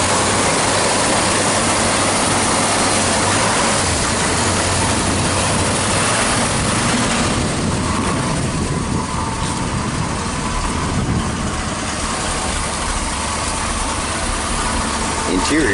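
A 1949 Chevy 5-window pickup engine idles with a steady low rumble, while people talk nearby over it.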